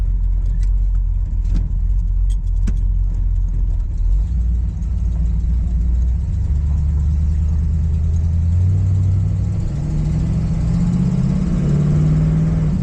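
Engine of a 1969 Ford Fairlane rumbles steadily from inside the car while driving, with low droning that swells as other traffic passes by near the end; no one speaks.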